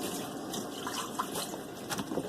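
Water runs and splashes while a gallon plastic bag that held milk is rinsed out, a steady close trickle with small drips and splashes throughout.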